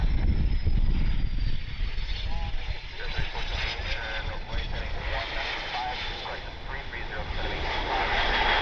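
Aircraft moving on parallel runways at Cleveland Hopkins airport, a steady broadband engine roar with a faint high whine that holds loud throughout, with radio chatter mixed in.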